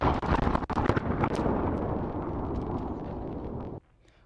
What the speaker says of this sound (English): that is the sound of the early Christmas morning explosion that rattled